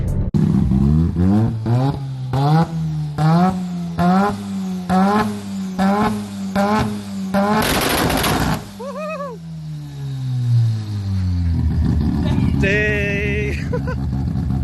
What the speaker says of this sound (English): here's a clip that my friend was saying here just to see how it looks and how it feels shooting a couple flames